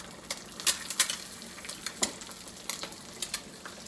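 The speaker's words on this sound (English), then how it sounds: "Beautiful fried egg." An egg fries in a cast iron pan, giving a steady close sizzle broken by sharp crackles and spitting pops scattered through the few seconds, with no voices.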